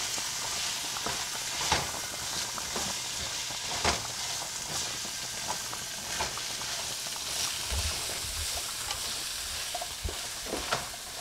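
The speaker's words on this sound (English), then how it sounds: "I'm sautéing carrots and onions" Carrots and onions sautéing in a pan for shepherd's pie mac, a steady soft sizzle with occasional clinks and stirring scrapes, no talking.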